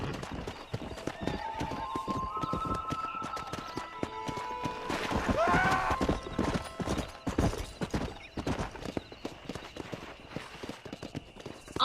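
Horse hooves gallop in a rhythmic clip-clop throughout a Red Dead Redemption riding scene, with a whinny partway through and a faint voice in the background.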